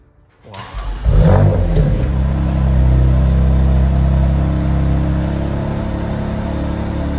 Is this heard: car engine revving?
yes